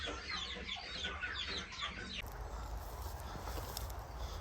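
A dense, busy flock of young laying hens cluck and chatter, with a steady low background rumble continuing throughout.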